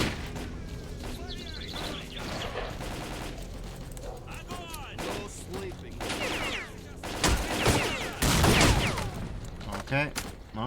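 Scattered gunfire pops in S.T.A.L.K.E.R.: Clear Sky, moderate bursts of shots growing louder toward the end over game ambience, with voices talking intermittently.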